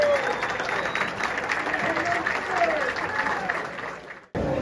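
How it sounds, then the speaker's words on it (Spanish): A crowd at a presentation of the Gigantes de Carolina 2023 team claps and cheers in a sustained wash of applause, then cuts off abruptly near the end. "Una bulla para nuestro gigante."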